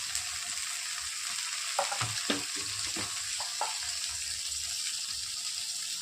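Half a tomato goes into onions frying in a pan, with a steady close sizzle throughout and a brief cluster of soft clatters and scrapes in the middle. There is no talking.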